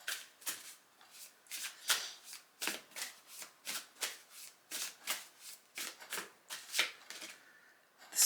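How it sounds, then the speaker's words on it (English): A deck of cards being shuffled by hand, a close series of crisp riffling bursts in quick uneven rhythm, about fifteen short flurries over several seconds, quiet and alone with no talking. "Let's pull a card from this deck."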